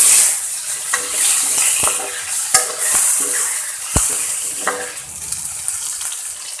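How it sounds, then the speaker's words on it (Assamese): Tomatoes frying in oil in a pan for a restaurant-style lentil fritter curry, giving a steady bright sizzle and hiss with a few soft stirring clacks against the pan, close and fairly loud, with no talking. "ইয়াতে এতিয়া টমেটোকেইটা ভাজি ল'ম অলপ"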